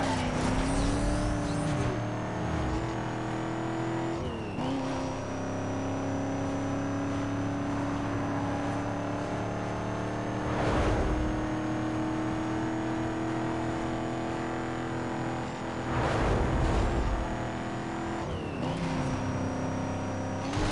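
A Ford Mustang's racing engine in Need for Speed Most Wanted revs and drones continuously, shifting pitch through gear changes and corners, loud and close, with brief bursts of other cars and track noise.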